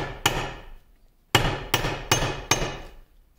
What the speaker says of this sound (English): get our punch down in here, and then try first with the heavier hammer